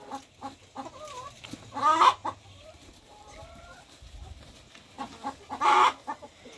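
A hen clucks in short bursts, with two louder squawking calls standing out, close by against a quiet background.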